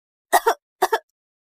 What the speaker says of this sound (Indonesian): Hembusan batuk.